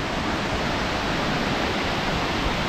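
Kuang Si waterfall in Laos, a steady broadband rush of falling water, even and continuous at close range, with no voices over it.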